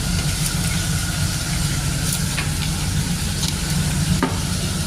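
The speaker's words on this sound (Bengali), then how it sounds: "একটা শুকনো লঙ্কা দিচ্ছি ফোড়ন, লঙ্কা ফোড়ন দিয়ে" A dry red chili tempering in hot oil with cumin seed for palak paneer, giving a continuous dense sizzle with a low background rumble and a few faint clicks, no talking.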